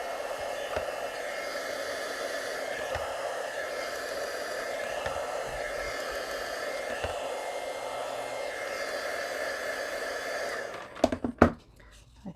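A heat embossing tool blows hot air in a steady, loud, close whoosh for about ten seconds, then cuts off, followed by a few handling clicks and taps.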